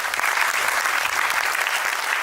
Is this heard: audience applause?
yes